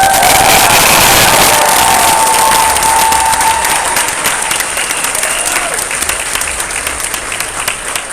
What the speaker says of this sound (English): y'all go ahead and clap it up for me